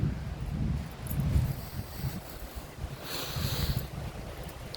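Wind gusts outdoors on a blustery day, rumbling in uneven surges across a microphone with a brighter rushing swell midway, no talking.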